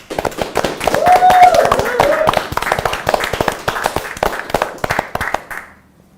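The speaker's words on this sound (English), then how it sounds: "Round of applause." A short round of clapping from a small group on a cricket-themed show, sharp separate hand claps close by, loud at first and then thinning out to nothing, with brief voices over the start.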